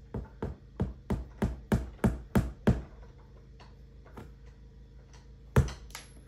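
Nails are hammered into a wall in an off-grid home, with a run of about nine evenly spaced, sharp knocking blows at close range, then a quiet pause and a single later strike, with no talk.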